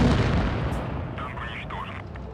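A tank cannon fires in World of Tanks Blitz, a heavy boom that rolls and fades over a couple of seconds while someone talks over it.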